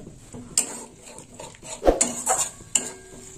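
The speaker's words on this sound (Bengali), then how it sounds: "এইভাবে নেড়ে চেড়ে নেবো টক দই দেওয়ার পর" Metal spoon scraping and clinking against a pan while stirring elephant foot yam curry after sour yogurt is added, a few sharp scrapes and knocks at an irregular pace, close and fairly quiet.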